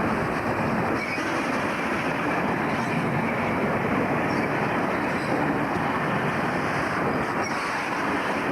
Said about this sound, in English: This is a train of empty ferry van fertiliser wagons passing over Immingham's Humber Road bridge